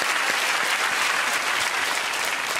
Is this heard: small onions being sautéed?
no